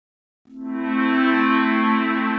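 A sustained synthesizer tone from the Cardinal Rack v24.04 virtual modular synth swells in after a brief silence, rich and bright as its filter opens, with a wide reverberant wash.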